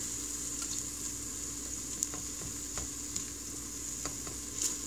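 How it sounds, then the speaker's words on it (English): Onion paste and whole spices sizzle quietly in hot oil, a soft steady hiss broken by a few faint pops and clicks, with no voices. "I will let my onions kind of saute over here. So this is sauteing nicely."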